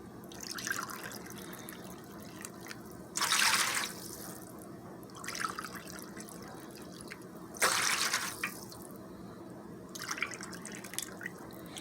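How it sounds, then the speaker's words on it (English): Vegetable broth is poured into a boxed stuffing dressing mix in a kitchen, with several short gushing pours separated by pauses and light dripping and splashing between them. "we're going to add our wet ingredients now. This is my vegetable broth that I set aside."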